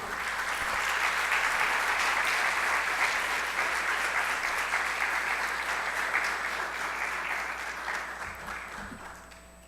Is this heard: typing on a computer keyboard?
no